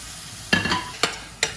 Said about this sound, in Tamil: தக்காளியும் போட்டு நல்லா வதங்கட்டும்